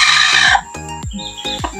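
Loud, close clucking and short crowing calls from native village chickens, including a Philippine breed, several harsh squawks in quick succession.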